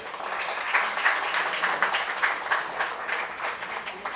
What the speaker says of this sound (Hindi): और साथ ही साथ जी जोरदार तालियां